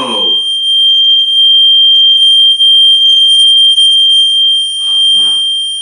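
A metal rod rubbed with fingers rings out with a loud, piercing, steady high tone that sustains for several seconds, with brief voices heard at the start and near the end.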